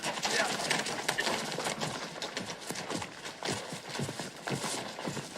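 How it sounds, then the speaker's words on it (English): Horse hooves clip-clopping in a western setting, with an irregular run of hoof strikes at moderate distance under talk and background noise. "He's my horse, Jim."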